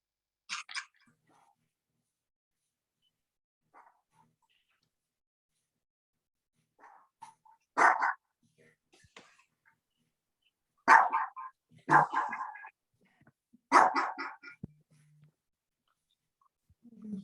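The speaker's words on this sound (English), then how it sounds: "that dog is barking" A dog barks in a few scattered, sharp single and double barks, fairly close and separated by long quiet stretches, during a golf course renovation meeting.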